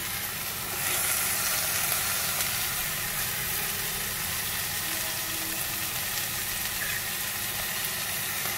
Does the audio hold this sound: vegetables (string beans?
yes